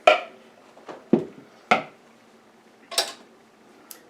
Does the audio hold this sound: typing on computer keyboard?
no